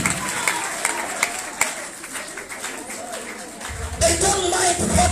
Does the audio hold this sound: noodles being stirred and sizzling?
no